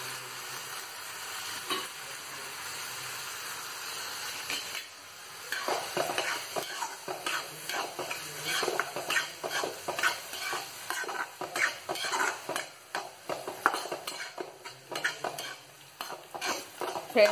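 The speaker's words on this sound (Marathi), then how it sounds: "आणि याच्यात आपण फोडणीला घालूया आता आलू" Finely sliced potatoes fry in a Maharashtrian spice tempering, a steady close sizzle broken by frequent scraping and clinking as a spoon stirs them around the pan, growing busier and louder partway through.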